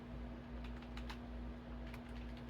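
Keys clatter in a few scattered taps on a computer keyboard while a PC is being built, faint and sparse over a steady electrical hum.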